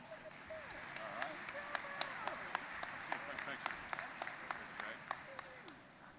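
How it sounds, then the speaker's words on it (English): Honoring the chair of Leadership Mississippi at an MEC gathering, an audience claps in sharp, evenly spaced strokes that ring out over a bed of voices talking and murmuring through the room. "Let's give her a round of applause."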